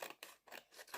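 Scissors snip through card in three quick, crisp strokes, close up and alone with no talk.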